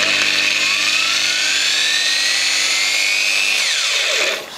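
A freshly regreased angle grinder runs on test with a loud, close, high whine that rises slightly in pitch as it spins up. It then winds down sharply near the end.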